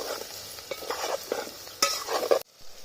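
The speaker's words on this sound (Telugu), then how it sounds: "యాదన్న కాయలు ఒక ఐదు నిమిషాలు ఇట్లే నూనెలో ఫ్రై చేసుకోవాలి" Ivy gourds fry in hot oil in a pan, a soft steady sizzle broken by a few scraping stirs and a utensil knock before it drops to near silence, close by with no voices.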